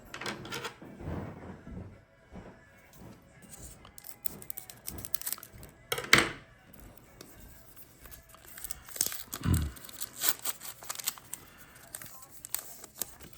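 Card packs from a 2019 Topps Archives hobby box being torn open by hand: quiet, intermittent crinkling and ripping of wrappers, with a few sharper tearing bursts scattered through.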